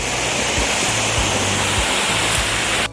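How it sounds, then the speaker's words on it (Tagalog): River water rushing steadily along the boundary of a farmland lot in Lopez, Quezon, a loud, close, unbroken roar of flowing water with no voices. "Ayan po, kita nyo po, ito ilog."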